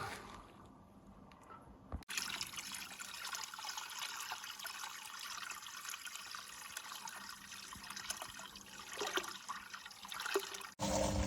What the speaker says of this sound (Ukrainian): заливаємо діжечки чистою водичкою